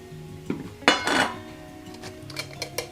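A metal camping bowl and billy pot being handled, a few bright clanks and clinks of metal against metal, close and irregular, with soft rustling between the knocks.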